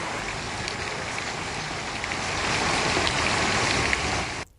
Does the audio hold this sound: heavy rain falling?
yes